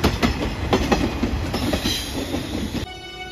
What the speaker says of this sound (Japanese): 伊予三河駅12時56分通過、特急潮風石槌9号松山駅、白いアンパンマン電車